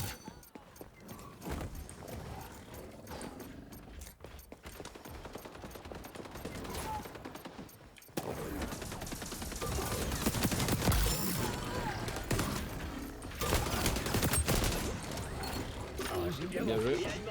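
Gunfire in the shooter game XDefiant: bursts of automatic fire and scattered shots, growing dense and loud in the second half, with someone talking over much of it.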